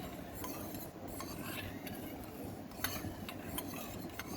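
A spoon stirring a hair oil blend of coconut oil in a small bowl, soft scraping with light metallic clinks, close and faint with a low steady background hum.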